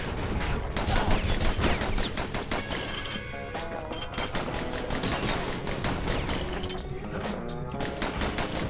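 Gunfire in the video game Bastion crackles as dense, rapid bursts of shots over busy music and effects, steady and fairly loud throughout, with no talking.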